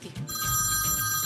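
A telephone rings indoors with a steady, bright electronic bell tone that holds continuously, fairly loud and close, with faint background movement.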